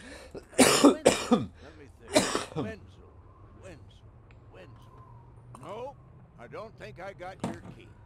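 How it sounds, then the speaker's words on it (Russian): A few harsh, close coughs at the start, followed by quieter throat sounds and someone talking. "Сейчас буду кашлять."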